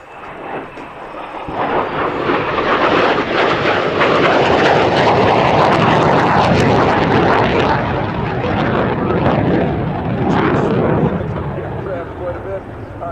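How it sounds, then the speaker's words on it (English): An F-100 Super Sabre jet flying past at an air show, a loud roar that swells and holds for several seconds before easing, with a commentator talking over it on the public address. "we're coming in right now with our F-100 coming back across"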